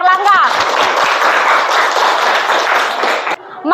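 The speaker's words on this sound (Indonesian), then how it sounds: "Kita beri tepuk tangan untuk Erlangga." Classroom applause from students during a lesson, a dense, steady burst of clapping lasting a few seconds, loud and close, with a brief voice at the start and end before it cuts off.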